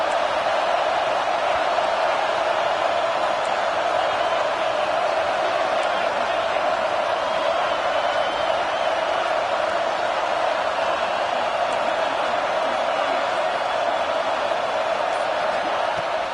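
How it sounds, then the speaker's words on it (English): A football stadium crowd roars steadily on a fourth down, a dense, unbroken wall of cheering and noise that lasts throughout, with an announcer's commentary heard over it. "Fourth down, and this crowd trying to help this defense rise to the occasion."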